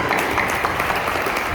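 At a formal ceremony in Burkina Faso, an audience applauds a speaker after her address, a brief burst of steady, close clapping.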